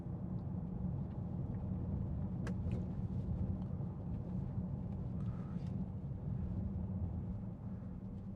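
A 2014 Bentley Continental GT V8 S engine hums steadily at a low pitch, rumbling continuously at an even pace, muffled and smooth, with a faint click partway through.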